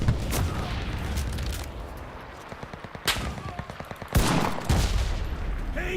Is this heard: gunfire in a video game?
yes